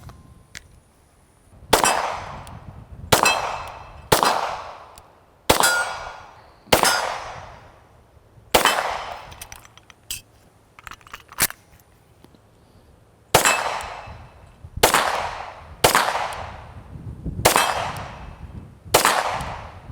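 Ruger Security 9 full-size 9mm pistol firing Wolf steel-case rounds at silhouette targets 25 yards away, sharp single shots with ringing decay, about a dozen in all, some in quick pairs, with short pauses between them.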